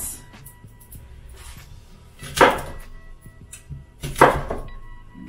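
A knife cuts through a Red Delicious apple on a board, with small taps and then two distinct louder crunching slices a couple of seconds apart, close and fairly quiet.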